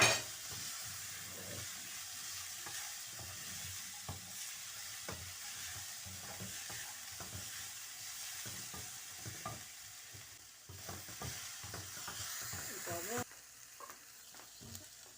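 Carrots and capsicum sauté with spices in a pan, giving a soft, steady sizzle broken by quiet clicks and scrapes of stirring throughout.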